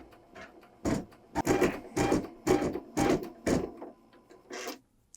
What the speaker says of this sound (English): It worked. It's stitching now.